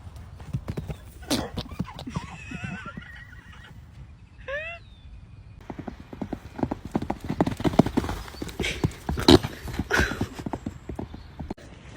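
Horse hooves clip-clop in quick irregular beats close by, a horse neighs once partway through, and scattered voices and other noises sound faintly in the background.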